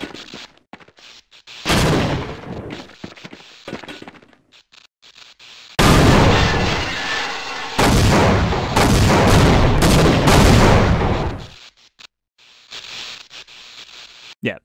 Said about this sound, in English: I think I did actually just blow up Black Mesa.